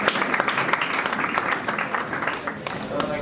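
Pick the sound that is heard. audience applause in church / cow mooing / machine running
audience applause in church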